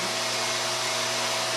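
A RevAir reverse hair dryer runs on type 4 natural hair, giving a steady, loud whooshing roar with a constant motor hum that holds unchanged throughout, no voices over it.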